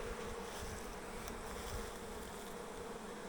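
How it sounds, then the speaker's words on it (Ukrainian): Bees foraging on sunflowers make a steady, soft, close buzzing drone that continues throughout with no voices. "Але йдуть вимазані бджоли, йдуть у соняшнику."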